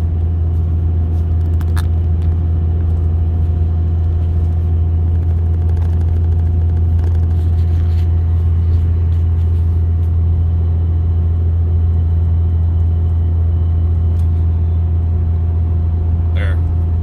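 A farm vehicle driving straight ahead through strong wind that is blowing soil off the ground, a loud constant low engine rumble and wind roar throughout while someone talks.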